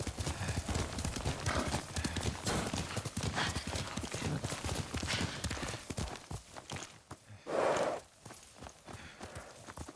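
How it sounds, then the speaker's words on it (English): A horse in the video game Ghost of Tsushima, its hooves clip-clopping in a steady rhythm before it lets out a clear neigh near the end. "Yuriko's horse."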